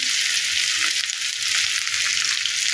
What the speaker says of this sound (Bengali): দিয়ে ডালটা ভালোভাবে ভেজে নেব